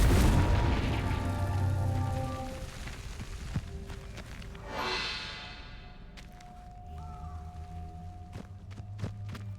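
A Confringo blasting spell goes off in a video game, a booming blast with a whooshing burst that fades, followed by scattered sharper impacts amid low ambient game sound.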